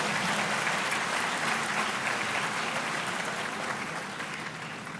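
A large audience claps in a dense, sustained round of applause that gradually softens toward the end.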